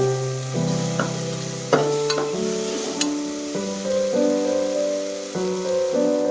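Garam masala is stirred into frying tomato bath in a cooker, producing a close sizzle with scraping stirs and a few sharp utensil clinks against the pot while background music plays; no talking.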